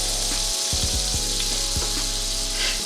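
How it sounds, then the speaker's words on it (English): Butter heats and sizzles in a hot skillet set just above medium-high heat. The frying hiss is steady and close, and a few low thumps and clanks of the pan come through underneath it. "We got our butter getting hot, got our skillet getting hot"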